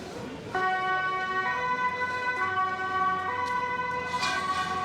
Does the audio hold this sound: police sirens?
yes